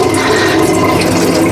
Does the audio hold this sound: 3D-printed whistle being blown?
no